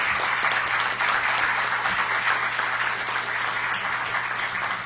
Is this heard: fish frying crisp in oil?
no